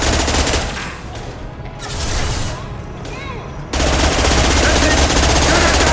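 Heavy automatic gunfire in the video game Mass Effect 2, loud, dense and sustained, dipping briefly in the middle before a harsher burst of firing takes over for the final seconds.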